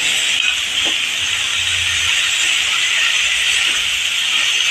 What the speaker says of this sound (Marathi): चांगली वाफ आलेली आहे